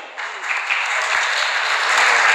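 An audience claps at an Urdu poetry mushaira in London, steady full applause of many hands filling the clip at close range without talk.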